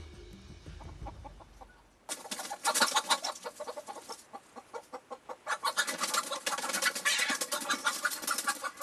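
Chickens cluck busily and close in winter, a dense, rhythmic run of clucks and squawks starting abruptly after a quiet, muffled opening.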